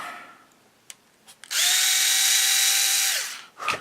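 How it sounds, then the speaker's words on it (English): A power drill whirs steadily for about two seconds after a few clicks, loud and close, drilling out a hole on a model aircraft kit, then winds down to silence. "Let me pull this one off, drill it out,"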